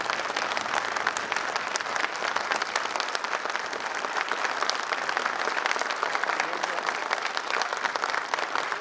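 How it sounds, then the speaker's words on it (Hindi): Steady, dense applause from a seated audience honouring a guest at an electro-homeopathy awareness event, loud and continuous throughout with no clear break. "जोरदार तालियां बजाना चाहिए।"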